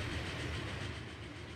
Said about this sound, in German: So, jetzt auch hier der Sound, wenn der Zug etwas schneller fährt.